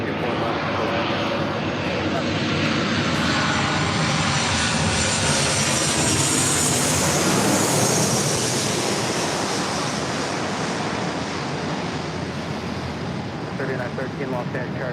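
An Embraer airliner lands on runway 24 left at LAX, its engine roar loud and steady throughout as a broad, sustained rush, with radio chatter under it.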